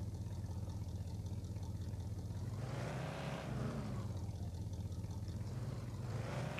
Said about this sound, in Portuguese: Vamos tentar fazer um drift ali agora.